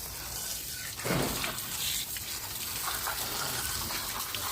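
Water gushes steadily from a tap while fruit is washed, a continuous splashing flow with a brief louder surge near the start.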